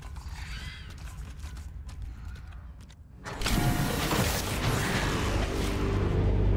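A door mechanism grinds and creaks open in the sci-fi video game Hellpoint, a rising mechanical rumble that swells loudly midway and continues as a dense churning drone, no voices heard.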